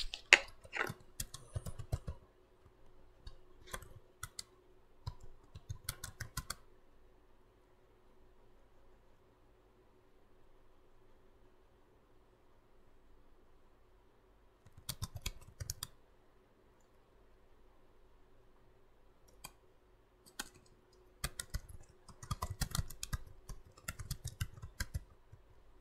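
Typing on a computer keyboard, with short bursts of close keystrokes and clicks separated by long quiet stretches, then a denser flurry of keys near the end, alone in a quiet room.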